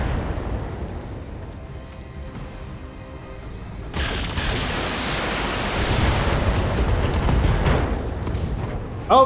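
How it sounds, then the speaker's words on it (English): AC-5 autocannon ammunition cooking off in the BattleTech game: a quieter rumble, then a sudden loud blast at about four seconds that rolls into a long, sustained roar of explosive noise. "got the AC-5 ammo explosion"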